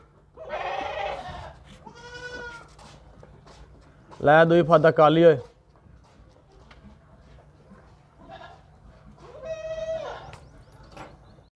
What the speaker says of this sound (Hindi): बड़ी ताकतवर बकरी है भाई, तेरे को काबू नहीं होती भाई।